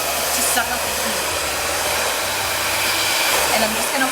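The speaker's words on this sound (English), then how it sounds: "put the blow dryer on the coolest setting and on the fastest speed" A handheld blow dryer set to its coolest heat and fastest fan speed roars in a steady, loud, broadband whoosh, running continuously and alone without any talking.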